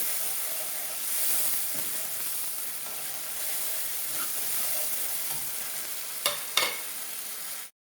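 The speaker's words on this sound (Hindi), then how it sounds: "इन टमाटर को ज़्यादा पकाने की ज़रूरत नहीं है क्योंकि पहले ये पक चुके हैं, बस इनको थोड़ा सा भूनना है" Tomatoes sauté in a pan for dal tadka with a steady bright sizzle and hiss, a couple of sharp utensil knocks near the end before it cuts off.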